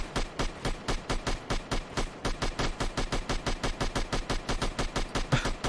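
Modded firearm shooting in Dark Souls 3, a rapid, steady automatic burst of loud evenly spaced shots, roughly four per second, continuing without a break with a brief stutter near the middle.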